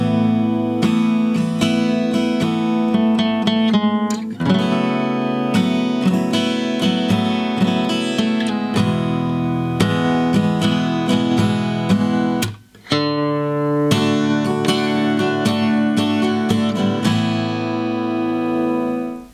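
An acoustic guitar strums the intro of a song in a steady rhythm of sustained, ringing chords, loud and close, with one short break partway through.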